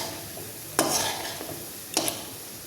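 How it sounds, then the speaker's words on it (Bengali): Thekua fry in hot oil with a soft continuous sizzle, broken by two sharp louder bursts as pieces are flipped in the pan. "পরেরগুলো আমি আস্তে আস্তে ভেজে নিচ্ছি। এগুলোকে আমি আবার উল্টে দিচ্ছি।"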